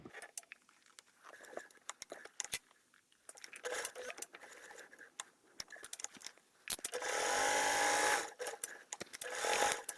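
Sewing machine stitching a vinyl bag flap, a close, fast, steady mechanical whir in one long burst after scattered handling clicks and taps, then starting again briefly.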